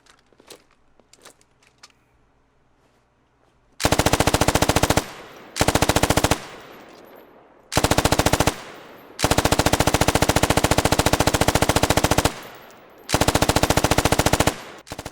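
Automatic machine gun in an infantry combat video game, fired in five long, loud sustained bursts with short pauses between them after a few seconds of quiet movement sounds.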